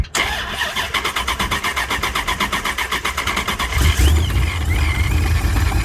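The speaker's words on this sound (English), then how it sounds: "It's making blower sounds." A supercharged Corvette engine cranks with rapid rhythmic chugging, then catches and runs loudly, settling into a rough idle with a high blower whine layered on top.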